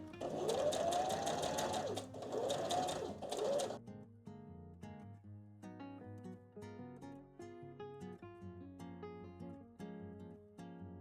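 A sewing machine stitches patchwork pieces together in a fast whirring run for about four seconds, then falls silent as tinkling background music carries on alone.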